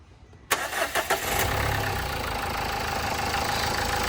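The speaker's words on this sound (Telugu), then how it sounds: "ఇప్పుడు ఒకసారి మీకు అయితే వెహికల్ స్టార్ట్ చేసి చూపిస్తాను" A 2016 Nissan Terrano XL+ diesel cranks and catches after a brief quiet moment, with a few sharp bursts, then settles into a steady, close, even idle.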